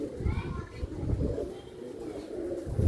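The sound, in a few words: pigeons cooing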